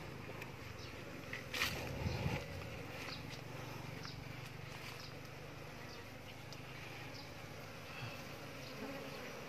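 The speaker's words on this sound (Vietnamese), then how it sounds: "Ong đang bay ra hả cả nhà." Bees fly out of a hive on an electric pole after smoke is blown in, a steady close buzzing drone of many insects with a brief louder rustle of movement early on and no talking.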